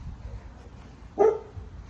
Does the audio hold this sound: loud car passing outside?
no